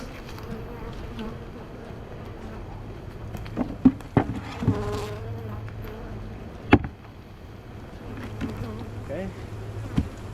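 A honeybee swarm buzzes as it is shaken into a double-deep hive box, a soft continuous hum with a few sharp knocks and thumps of the wooden box scattered through.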